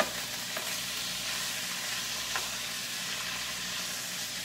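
Steak and vegetables stir-frying in a pan, a steady, close sizzle and crackle that runs without a break and with no one talking.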